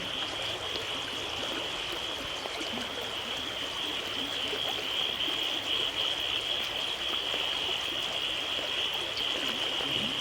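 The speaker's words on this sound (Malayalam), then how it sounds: "പാടത്തുനിന്ന് വെള്ളം ഒഴുകുന്നത് ഈ തോട്ടിലേക്കാണ്." Floodwater pours from a flooded paddy field into a deep canal during rains in Kerala. The rushing flow is loud and unbroken throughout, with a constant high insect-like drone above it and no voices.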